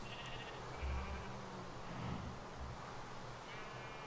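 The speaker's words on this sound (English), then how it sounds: "The sheep has grown its wool back." A video game sheep that has regrown its wool gives a few short bleats, low and partly buried in steady background game sound and rain, with no voices.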